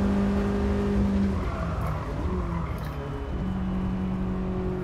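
An NA Mazda Roadster in Gran Turismo Sport, lapping the Autopolis circuit with a steady high engine drone that shifts pitch as it revs and eases, over faint road noise.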